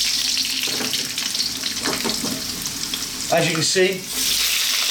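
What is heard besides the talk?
potatoes frying on high heat for aloo fry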